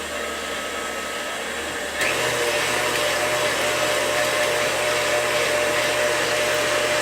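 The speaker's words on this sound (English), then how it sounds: "we're just going to mix this on high until stiff peaks form" An electric mixer whips cream with vanilla on high speed for a lemon icebox pie, with a loud, steady whir that jumps up in intensity about two seconds in and then holds constant, with no talk.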